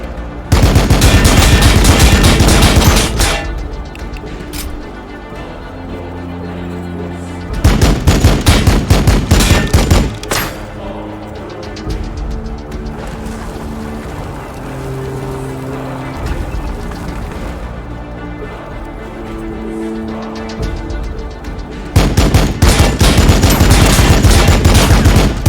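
Squad gunfire in the video game Warhammer 40k: Battlesector, with dense bursts of rapid automatic shots and heavy volleys alternating with quieter stretches of droning vehicle or engine hum and music-like tones.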